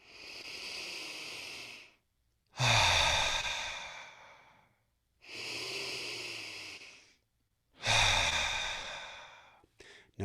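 Slow audible breathing exercise with long breaths in through the nose and out through the mouth, four drawn-out airy breaths of a few seconds each with pauses between, close and clear, no talking.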